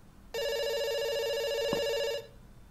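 An in-game telephone in a comedic adventure game rings once, a bright continuous electronic trill lasting about two seconds, moderately loud against a quiet background.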